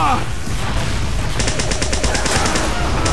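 Rapid gunfire bursts in the video game Team Fortress 2, a loud battle din with a fast string of shots growing in its second half.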